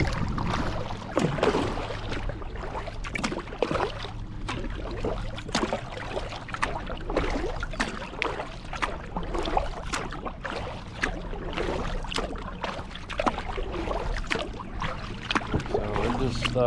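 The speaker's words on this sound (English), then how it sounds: "we're just kayaking along here, you know" A kayak paddling along on an overcast evening, steady water sloshing and dripping paddle strokes in a continuous rhythm, close and moderately loud, with faint indistinct voices at times.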